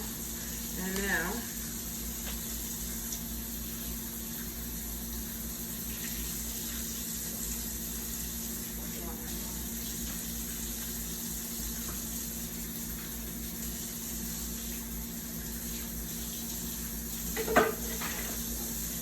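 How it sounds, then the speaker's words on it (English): A kitchen tap runs steadily while metal tongs are rinsed, a continuous hiss of water with a few clinks and handling knocks, and faint cooking sounds underneath. "wash my tongs off real quick here"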